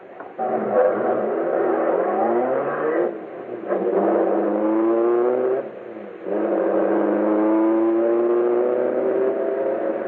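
A getaway car speeds off in an old-time radio crime drama, its engine revving and whirring loudly in several rising surges with brief dips between them, heard alone without talk.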